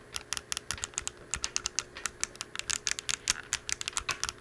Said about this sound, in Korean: 버튼 클릭 사운드를 ASMR로 한번 들려드리기 위해 준비를 했고요